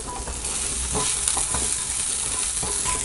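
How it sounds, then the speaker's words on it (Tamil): Green and dried red chillies with tamarind frying in oil for coriander chutney, a dense continuous sizzle with repeated stirring scrapes, close and steady without talk. "இப்போ நல்லா வதக்கிட்டோம்."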